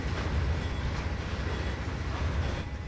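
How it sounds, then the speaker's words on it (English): A train passes in the railway simulator game Trainz 2022: a steady, heavy rumble of rolling wagons with faint wheel clatter, close and continuous throughout. "There's the train."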